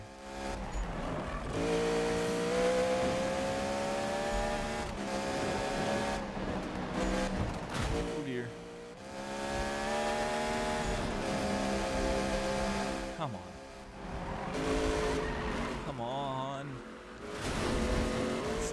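A car drifting in a Need For Speed racing game: a loud, sustained engine drone rises and falls with revving, and squealing tires come through in places while someone talks over it.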